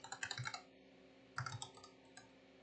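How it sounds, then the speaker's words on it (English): Fingers type on a computer keyboard in two quick bursts of close, crisp key clicks with a pause between them, fairly quiet and with no talking. "I could not get my fingers on the keyboard correctly"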